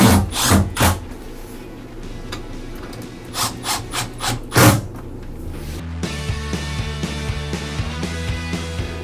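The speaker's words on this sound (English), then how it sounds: "while also screwing it back into place" Screws are driven by a power tool into a wooden bunk wall in a Sumner build, heard as several short, loud, rasping bursts with pauses between them, followed by a steadier grinding, whirring run.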